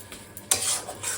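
Food for fish kachori sizzling in a pan while a utensil stirs and scrapes, rising to a louder burst midway and continuing steadily, close by.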